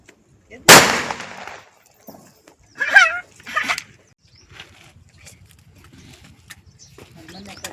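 One sharp, loud bang of a Diwali firecracker bursts up close, followed by a couple of crackling pops and voices, then quieter scattered noises.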